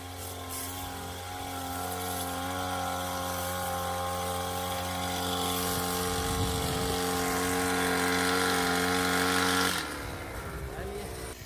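A steady high-pitched whine of an agricultural spraying drone's rotors hovering close over rice fields, growing slightly louder before cutting away suddenly near the end, with outdoor background noise.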